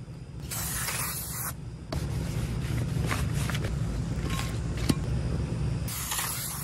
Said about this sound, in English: Then you want to clean your rotor with some brake clean